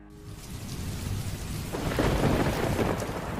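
A thunderstorm with heavy rain, rumbling thunder swelling from low to loud beneath a steady wash of falling rain, with no voices.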